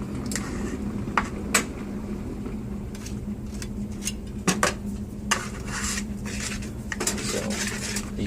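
Steady scraping and occasional clinks of a whisk working through batter in a bowl, close by, over a constant low hum.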